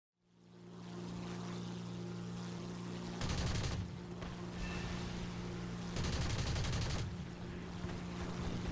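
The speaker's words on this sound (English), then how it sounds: "We managed to detonate the bomb load of the B-24 with one of our 30mm high explosive incendiary rounds in a rush burst of cannon fire" Two sustained bursts of 30mm high explosive incendiary cannon fire at a B-24 bomber in War Thunder, each lasting about a second, loud over a constant droning aircraft engine.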